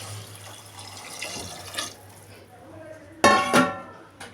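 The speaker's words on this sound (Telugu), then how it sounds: "4 గ్లాసెస్ వాటర్ తీసుకుంటున్నా." Water pours into a pot of rice for vegetable pulao, a soft splashing stream with a louder burst of pouring near the end, and low voice-like sounds underneath.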